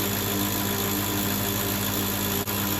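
A brake bedding machine runs with a road bike mounted on it, giving a steady mechanical drone and hum that holds constant throughout, with one brief dip near the end.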